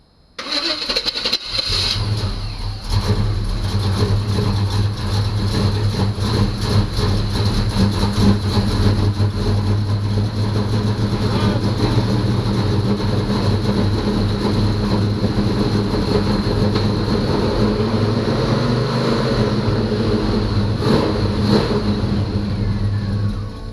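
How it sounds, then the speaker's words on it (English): Engine of a 1985 Chevy C10 short-bed pickup cranks briefly, then catches and settles into a steady, loud, close idle with a low rumble that runs throughout. "So I'm going to try to crank this thing up."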